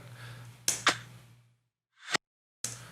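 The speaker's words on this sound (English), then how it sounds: "And for that, I use this kind of click-clack noise." Sharp processed gunshot-style click-clack sounds, two in quick succession, then a reversed swell that snaps off, followed by another hit; dry, punchy percussive effects with no talking.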